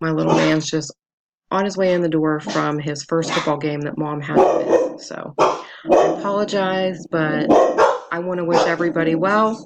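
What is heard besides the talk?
dogs barking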